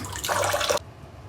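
Running water splashes steadily as beef is scrubbed and washed by hand, a close, loud gush that stops abruptly partway through.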